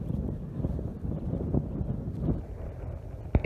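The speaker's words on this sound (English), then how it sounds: "the moment we start doing this, the wind starts blowing" Wind blows outdoors while pasture is being planted with barley, a low, uneven rumble buffeting the microphone, with a sharp bump at the end.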